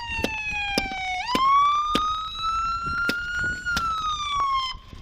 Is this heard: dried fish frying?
no